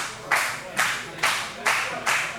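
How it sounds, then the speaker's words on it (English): A wrestling show crowd claps in five loud, evenly spaced rhythmic bursts, a unified chant-like clap pattern over a murmuring arena. "Listen to that crowd"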